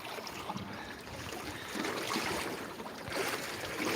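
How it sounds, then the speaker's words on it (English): An oversized boat outboard engine drones steadily over rushing ocean water and wind, a continuous outdoor rumble with no voices. "Sound like you got a big enough motor for your boat"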